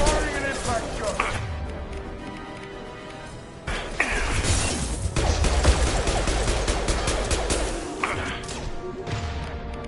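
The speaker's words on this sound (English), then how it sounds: "Firing an impact shot!" Heavy, crashing gunfire bursts from an impact-shot weapon in Mass Effect 2, with shattering, thudding hits across the whole stretch and loud game effects filling the mix.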